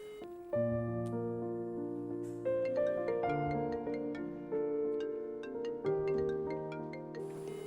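A melodic phone ringtone plays through repeating phrases of clear, bright notes while an outgoing call waits to be answered. It is steady, moderately loud and alone, with no talk.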